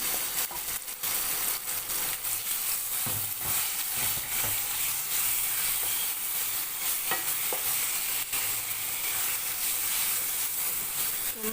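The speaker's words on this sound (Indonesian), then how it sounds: "Tumis bumbu yang tadi kita haluskan." Ground spice paste for fish rica-rica sizzles loudly in about two spoonfuls of hot oil in a pan, a steady close frying hiss broken by scraping stirs.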